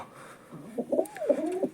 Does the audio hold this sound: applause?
no